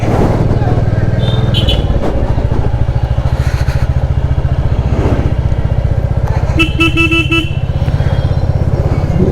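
A Royal Enfield Classic 350cc motorcycle riding on a road in Bangladesh, its low engine thumping loudly and continuously up close, while car horns honk several times around it and voices occasionally come through.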